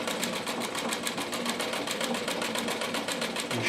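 A Royal Brother sewing machine runs steadily with a fast, even rapid ticking of the needle mechanism over a continuous motor hum, close and fairly loud with no talking.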